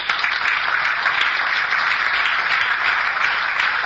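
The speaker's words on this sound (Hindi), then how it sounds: "आप तालियां बजा रहे हैं" Steady applause from a seminar audience at an RCM business meeting, dense continuous clapping at even loudness throughout with no voices over it.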